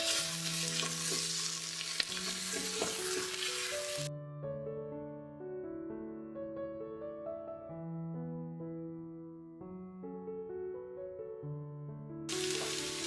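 Tomato paste being stirred into a vegetable stew with meat, tomatoes and peppers in a pressure cooker pot, a steady scraping stir under a continuous sizzle, close and fairly loud, with music playing over it.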